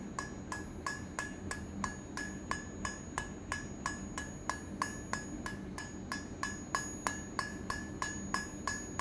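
Steady hammer blows ring on a steel bar being forged from an octagon into a smooth round taper for a leaf hook, about two ringing metallic strikes per second, evenly spaced and close, with no talk.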